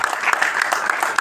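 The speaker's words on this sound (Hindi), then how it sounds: "जी, प्लीज एक तालियां इनके लिए होनी चाहिए।" Audience applause at a film trailer launch event, a short dense burst of many hands clapping together, loud and close, with no speech over it.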